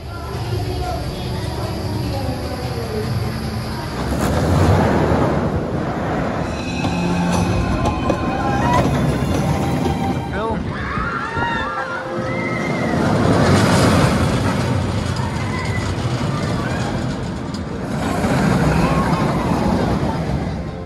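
Colossus roller coaster ride at Thorpe Park, with loud rushing wind roar that swells and fades in surges across the ride, rumbling track noise and shouting riders.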